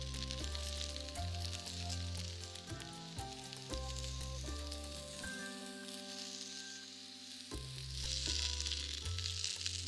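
Faint, steady sizzling of food in a frying pan as the heat is turned up, a soft crackle lying under music-like tonal sounds, with no one speaking.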